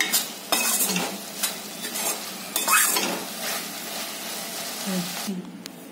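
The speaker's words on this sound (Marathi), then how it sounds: "आता भाजी माझी झाली, आता मी काढून घेते" A spoon stirs and scrapes a dry stir-fry of lima bean pods with turmeric, salt and coriander out of a pan, with repeated metallic scrapes and clinks over a faint sizzle.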